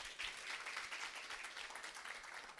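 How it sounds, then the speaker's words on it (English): Audience applause at a youth development conference, a continuous, fairly distant wash of many hands clapping at an even level throughout, with no voices on top. "Can we give him another round of applause?"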